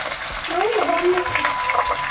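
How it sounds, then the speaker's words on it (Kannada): Onions and green chillies fry in a pan for a greens palya, giving a steady close sizzle with faint stirring throughout. "ಬರೀ ಈರುಳ್ಳಿ, ಹಸಿಮೆಣಸು ಹಾಂ, ಚೆನ್ನಾಗಿ ಫ್ರೈ ಮಾಡ್ಕೋಬೇಕು"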